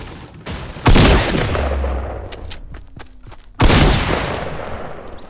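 Two heavy gun blasts crack out loudly in a Fortnite Battle Royale fight, each ringing off into a tail, with scattered lighter pops and clicks between them and no talking.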